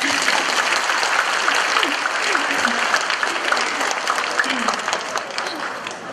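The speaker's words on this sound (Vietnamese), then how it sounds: "Đại chúng vỗ tay đi." An audience in a rented hall at a day of Buddhist practice breaks into sustained, dense applause that carries on at a steady loud level for several seconds before tapering slightly, with a voice faintly audible beneath it.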